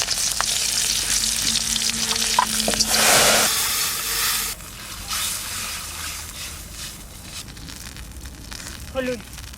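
Green chilies and nigella seeds drop into hot mustard oil with a loud, close burst of sizzling and spitting that settles into a quieter steady fry, with a short clatter near the end.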